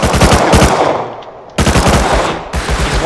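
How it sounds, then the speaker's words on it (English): Loud, close automatic gunfire in Rust Console Edition on PS5, rapid bursts of shots with a short pause between them and another burst starting midway, with no talking. "He's shooting me!"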